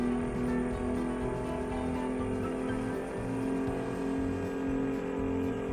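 A Mack truck engine in American Truck Simulator on icy roads, a steady low diesel drone with a pulsing rhythmic chug underneath, constant and moderately loud throughout.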